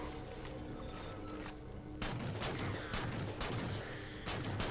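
DMR rifle fire in the Halo 4 mission Shutdown: after a rumbling lead-in, a quick series of sharp, loud shots follows at a steady rapid pace over the game's ambient noise.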